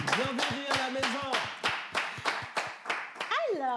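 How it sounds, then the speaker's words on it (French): Audience clapping at a steady, even beat, sharp claps repeating roughly three times a second, with a voice singing or speaking over the first part and a rising vocal tone near the end. "Qu'est-ce qu'on peut vous offrir d'autre que des applaudissements bien mérités?"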